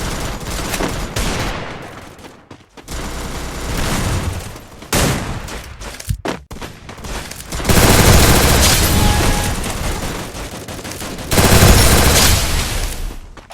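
MP40 submachine guns, Yellow Poker and Royal Flush skins, fire in the video game Free Fire: loud rapid bursts and sustained automatic volleys with short pauses between them.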